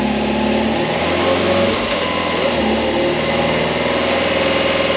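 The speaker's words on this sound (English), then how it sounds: "And if I rev it a little bit," A bugeye Subaru WRX fitted with a swapped-in STI six-speed gearbox runs with a steady, loud engine drone that swells slightly as it is revved, with no talking.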